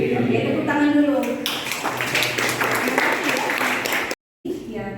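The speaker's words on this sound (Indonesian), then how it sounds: "Oke, tepuk tangan dulu." A class of students claps after a lecture, brisk applause rising after a moment of talk and continuing for a few seconds before a short cut, with voices heard at the start and end.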